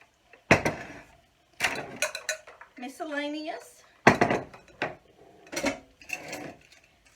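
Bowls, plates and silverware clatter and clink in a few sharp bursts as dishes are sorted into piles at home, with someone talking over and between the handling.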